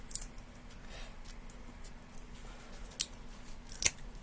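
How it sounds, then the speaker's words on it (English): A pair of scissors snips canvas spacers in a few quick, crisp cuts spaced apart over low background hum, with no talking. "Let me just grab a pair of scissors"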